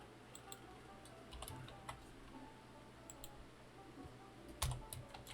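Quiet typing on a computer keyboard, scattered light key clicks in uneven bursts with a slightly louder clack near the end, set against a low steady room hum.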